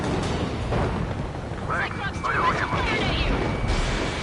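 Missile launches and explosions in the combat flight game Ace Combat 7, a roaring, rumbling blast wash with a rising whistling streak through it, while a radio voice talks over the noise.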